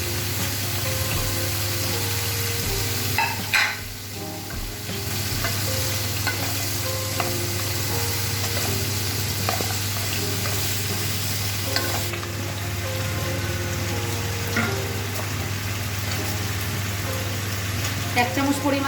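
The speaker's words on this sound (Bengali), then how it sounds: "দিয়ে অল্প নেড়ে আলুগুলো দিয়ে দিলাম।" Potatoes frying in a pan with radish and small fish, a constant close sizzle with occasional scraping of a spatula as they are stirred, over a low steady hum.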